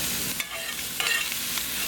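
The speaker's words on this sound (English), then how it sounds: "Okay, we're going to brown up that sausage." Sausage browns in a pan over a hot outdoor grill fire, giving a steady bright sizzle with a few scraping stirs and no voices.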